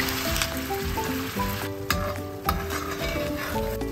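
Cooking cream poured into a hot pan of melted butter and olive oil sizzles and bubbles steadily, close and moderately loud, with light stirring scrapes and a few sharp utensil clicks.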